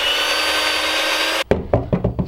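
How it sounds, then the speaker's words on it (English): A power drill runs steadily with a bit opening up a screw hole in wood while building a homemade saddle shooting tripod, then cuts off abruptly, followed by several sharp knocks and rattles up close. "So we drill a little bit"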